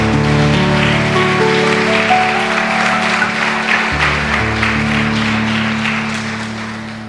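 A church congregation applauds together during a worship service, a dense, steady wash of clapping held at a loud, even level that thins and fades toward the end, with organ or keyboard chords sustained underneath.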